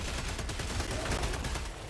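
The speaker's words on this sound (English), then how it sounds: "Auto cannon go brr." An autocannon in Helldivers 2 fires rapidly against automatons, a dense, loud, continuous barrage of heavy gunfire shots packed closely together.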